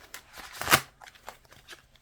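A deck of oracle cards shuffled inside a car gives a few quick papery riffling bursts over about two seconds, with one louder flurry in the middle, close and fairly quiet.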